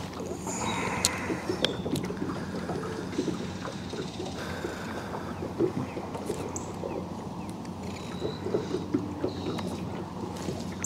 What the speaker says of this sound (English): Quite a bit of wind tunneling back through here.